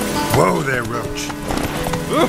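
Geralt's horse Roach in The Witcher 3 clops along the ground with rhythmic hoofbeats and lets out short, rising whinnies, close and clear over steady background game sound.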